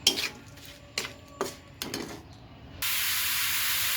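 A rohu fish head fries in a pan with salt and turmeric. A few sharp clatters of the pan and spatula come first, then a loud, steady sizzle takes over for the last second or so.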